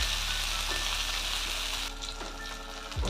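Butter chicken sizzles loudly in a pan on a stove, a steady close frying hiss with a few soft scrapes near the end and no talking.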